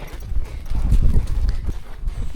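Horse hooves clip-clopping at a walk, a moderately close, uneven series of soft thuds over about two seconds in a quiet winter setting.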